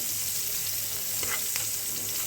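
Mustard greens frying in oil with onion and garlic, a dense, even sizzle filling the whole stretch, close and steady with no voices.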